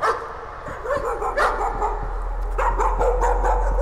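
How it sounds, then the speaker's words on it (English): A dog barks in the horror video game Layers of Fear, with several sharp, separated barks and yelps over a droning ambient background. "A dog?"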